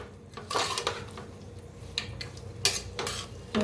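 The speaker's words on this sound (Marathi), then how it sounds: "थोडं मिक्स करून घेते" A spoon stirring a shepu (dill) vegetable mixture with chillies, salt and water in a pot, giving intermittent scraping and clinking knocks against the metal in a loose rhythm, close and fairly quiet.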